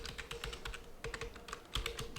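Rapid, steady keystrokes on a computer keyboard as JavaScript code is typed, close and clear with a busy irregular clatter throughout and no voices.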